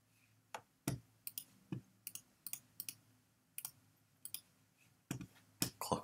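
Computer mouse clicks during software work: a dozen or so sharp, quiet, close clicks at irregular intervals, some in quick pairs, over a faint hum.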